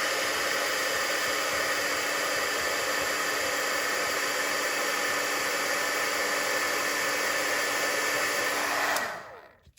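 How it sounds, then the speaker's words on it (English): A heat gun blows steadily and loudly while heat embossing a stamped card, a constant hissing whoosh of hot air running alone for about nine seconds before it cuts off. "And then I'm going to heat emboss it. So it's going to get loud for just a minute."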